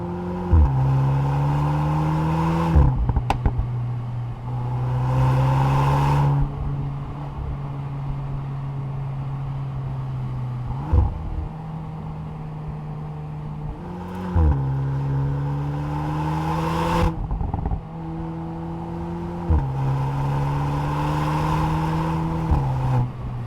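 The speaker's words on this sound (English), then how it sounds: "how about that exhaust noise at the back?" A Volkswagen Golf 8 R with an Akrapovic exhaust drones loudly and steadily, with repeated revs rising in pitch, each followed by a sharp crackle on the gear change.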